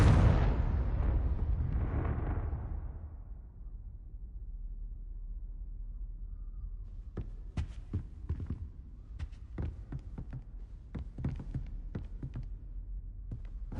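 A deep, booming Confringo spell explosion from the Hogwarts Legacy video game, rumbling loudly and then fading, followed by scattered sharp crackles and small pops.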